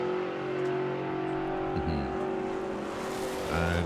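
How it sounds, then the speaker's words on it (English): A drag racing car at the FIA FIM Main Event launches as its throttle stop releases, a loud, steady engine roar with a rising note partway through and background crowd and track noise. "Then the throttle stop releases."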